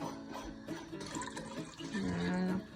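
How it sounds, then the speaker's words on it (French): Water is poured into a pot of bouillabaisse, a continuous close pouring and splashing with a rising tone as the pot fills. "On rajoute un peu d'eau."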